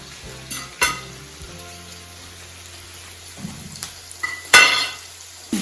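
Mushrooms cooking in a hot pan give a soft, continuous sizzle at close range, broken by a few sharp clinks and scrapes of a utensil against the pan.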